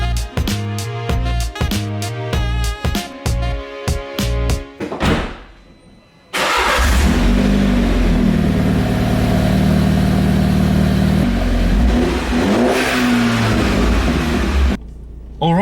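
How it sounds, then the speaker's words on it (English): A Mini Cooper S F56 with a cheap eBay exhaust fitted starts up and revs, loud and close, opening with clattery mechanical noise, then a sustained throaty engine drone with rising and falling revs. "Then you lower the car and start it up."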